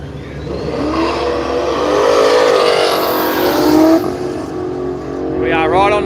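A big Chevrolet drag car launches hard down the strip at Willowbank, its engine roaring loud and rising in pitch as it pulls away, with a commentator talking over the noise.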